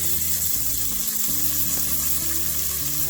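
Onions dropped into hot oil with chilies and curry leaves in a pan over a low flame hiss and sizzle steadily and loudly, with no voice over it.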